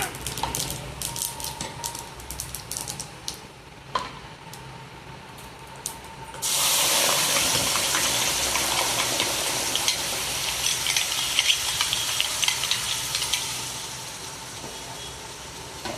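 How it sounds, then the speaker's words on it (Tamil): Quiet clinking and tapping, then a sudden loud sizzle as chutney is poured into hot oil tempering with dried red chillies, the crackling frying continuing strongly before easing slightly. "அடுத்து சட்னியை ஊற்றிடுவோம்."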